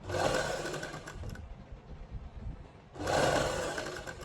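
Sewing machine running while stitching a fabric neckline, a steady mechanical whir in two close, loud bursts separated by a quieter pause.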